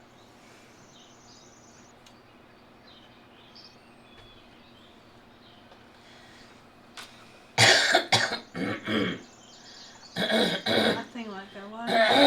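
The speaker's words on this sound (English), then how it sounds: "Somebody was coughing." A person coughs a few times loudly and close by, rough bursts clustered near the end, after a quiet stretch with faint crickets and birds in the background; a voice also speaks briefly.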